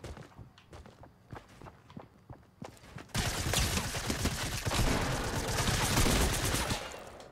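A drum gun fires in Fortnite. The first part has quick taps of footsteps and scattered shots, then a dense, loud, sustained burst of automatic fire runs for several seconds.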